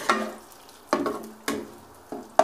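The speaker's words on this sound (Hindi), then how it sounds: "बस में अपने टमाटर ऐड कर देने हैं। और इसको अच्छे से भून लेना है।" Tomatoes frying with golden-brown onions in a pan for beef kaleji fry, stirred in four distinct scraping bursts over a steady soft sizzle, close and alone.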